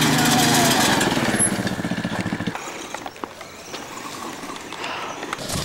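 A go-kart engine buzzes loudly and close at first, its rapid pulsing drone fading after a few seconds into rougher, quieter mechanical rattling and outdoor background.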